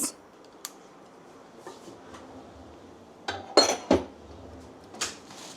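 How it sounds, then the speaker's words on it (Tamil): A small tempering ladle holding a little oil knocks and clinks against metal cookware in a few sharp close taps, mostly clustered near the end, with quiet pauses between. "ஸோ தாளிப்பு கரண்டி நம்ம எடுத்துக்கிட்டோம். இதில் அகெயின் வெரி லிட்டில் ஆயில் நம்ம போட்டுக்கலாம்"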